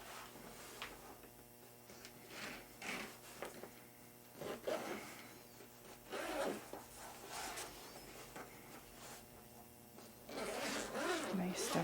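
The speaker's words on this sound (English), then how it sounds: "Nice double zip." The double zipper on a GoPro Hero 9 bundle case is worked back and forth in a run of quick, close, fairly quiet zip strokes, with faint voice in the background.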